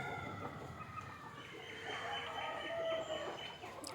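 Country chickens cluck and murmur close by in a farmyard at morning feeding time, with a rooster crowing partway through, alone with no talking.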